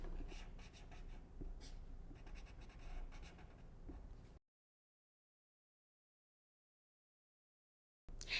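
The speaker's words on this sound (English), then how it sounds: "This time, I'll draw a square and color it in blue." Drawing and colouring a square in blue on paper, with soft close scratchy strokes for about four seconds, then silence.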